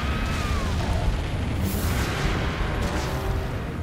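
Cannons blasting in the video game Serious Sam 2, a dense, continuous roar of booming fire with overlapping explosions, loud and close, with no clear pauses between shots.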